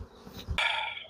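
Honeybees buzz around an open hive, starting with low thumps and then a sudden close, steady drone that fades slightly over about half a second.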